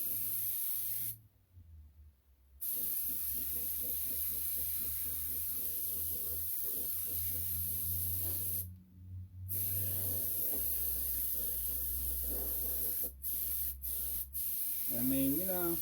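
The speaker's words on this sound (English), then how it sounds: "we're spraying the whole thing, trying to get it all into the details" Spray paint hissing from a can onto a rotten-looking prop pumpkin, a steady close spray broken by short pauses and a few quick bursts, with someone talking faintly under it.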